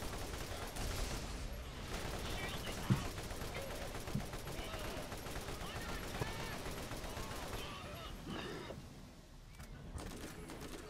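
Rapid gunfire crackles through a Borderlands firefight as repeated shots and bursts keep up a dense, busy clatter, with a voice talking over the din.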